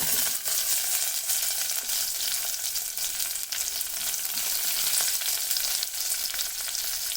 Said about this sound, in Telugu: ఇవన్నీ వేసుకున్నాక ఇలా తిప్పుకోండి. ఆనియన్ ముక్కలు,